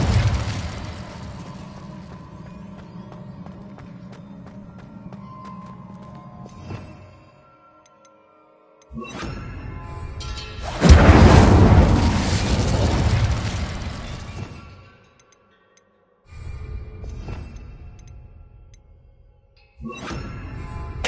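Incendio fire spell in the Hogwarts Legacy video game: low crackling rumble with ticking, then a sudden loud fiery burst that roars for several seconds before fading, followed by further blasts.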